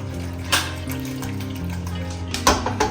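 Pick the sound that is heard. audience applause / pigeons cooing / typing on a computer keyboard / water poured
water poured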